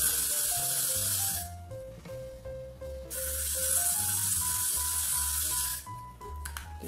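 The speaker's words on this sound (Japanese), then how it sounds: "スプレーワックスです。" Spray wax misted onto styled, curled hair in two long hissing bursts, each about one and a half to nearly three seconds, close and steady, with a short pause between them and soft tonal music underneath.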